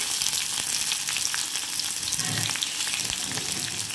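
Long-sliced onions sizzling in oil in a pan, a steady, close, dense crackle of frying that runs throughout with faint stirring, no voices.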